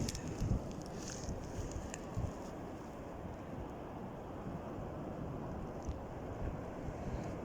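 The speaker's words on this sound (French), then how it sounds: "La douce ondulation des vagues, alors que plus loin, c'est le tumulte." Gentle waves rippling outdoors, a steady soft wash with wind buffeting the microphone and a few faint higher clinks, continuous and even throughout with no voices.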